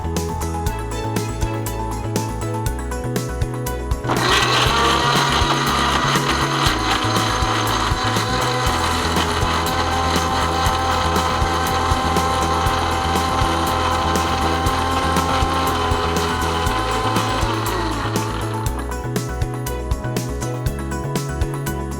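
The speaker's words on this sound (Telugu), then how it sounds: "సో ఇది సిమ్లో పెట్టుకుని స్లిమ్లో పెట్టేసేసుకొని మిక్సీ పట్టేస్తాం." An electric mixer grinder blends ginger garlic paste in a kitchen, whirring loudly and steadily for about fifteen seconds over soft background music, then stopping.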